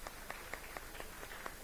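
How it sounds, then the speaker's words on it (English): Sparse, scattered claps from a small audience at a literary festival panel, a handful of hands striking irregularly at a moderate distance without building into full applause. "Let's have a round of applause for all of them."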